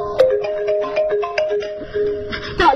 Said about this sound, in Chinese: 不好意思，接个电话啊。